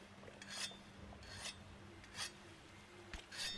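A sword is sharpened on a whetstone in Monster Hunter World, with four separate rasping scrapes spaced about a second apart over a low game hum.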